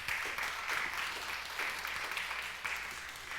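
Applause from a church congregation at a Spanish-language Sunday service, a steady wash of clapping filling the room for a few seconds without a break.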